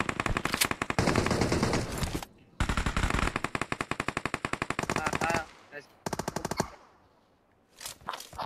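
Rapid automatic gunfire from PUBG rattles in long, loud bursts of evenly spaced shots, broken by brief pauses and a short lull near the end before more shots resume.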